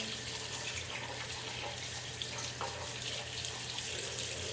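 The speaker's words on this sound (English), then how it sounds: "Pretty basic, just scrub it down, scrub the threads down, rinse it off." Running water pours steadily from a tap as a gun suppressor is rinsed off after scrubbing, a continuous close hiss and splash with no pauses.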